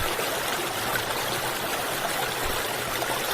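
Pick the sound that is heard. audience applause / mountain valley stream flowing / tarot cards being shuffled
mountain valley stream flowing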